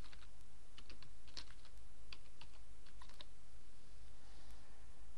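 Someone types on a computer keyboard at a desk, producing a steady stream of light, quick key clicks over a constant low hum, with no talking.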